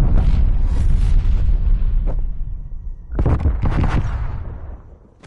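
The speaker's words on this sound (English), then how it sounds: "They called right. Artillery." Artillery fire in a competitive video game match: heavy, loud booming blasts roll in two clusters, a long rumbling barrage at first, then a short gap and a second burst of explosions that fades away.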